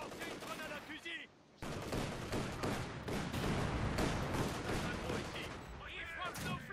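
Rifle grenade launch and bursts of gunfire in the WWII strategy game Company of Heroes 2, a dense, continuous barrage of shots and blasts after a brief lull, with voice lines in the mix.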